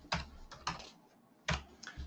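Typing on a laptop keyboard in an office, with irregular bursts of quick clicking keystrokes separated by short pauses, close and moderately quiet.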